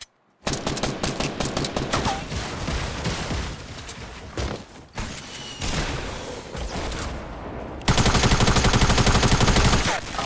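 Rapid automatic gunfire in a video game squad battle, loud dense bursts of shots that run almost without a break and swell toward the end.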